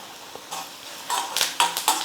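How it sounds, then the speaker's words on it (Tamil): Onion, green chilli and curry leaves frying in a pan for upma, a soft sizzle broken by several sharp scraping and clinking stirs of the spoon against the pan, close and fairly loud. "வெங்காயமும் நல்லா வதங்கிடுச்சு."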